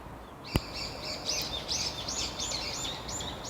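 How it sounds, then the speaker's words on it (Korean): Morning birds chirping outdoors in a rapid, repeated series of bright tweets, moderately close, with one sharp click near the start and no talking. "지금 아침이라 새들이 완전 신났네요."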